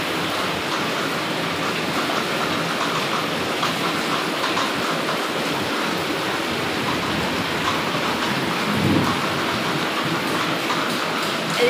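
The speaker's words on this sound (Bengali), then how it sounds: "এটা আরো জোরে বৃষ্টি আসবে যখন," Heavy rain pours down in a dense, constant roar, close and loud, with no distinct thunderclaps and no voices over the continuous wash of water.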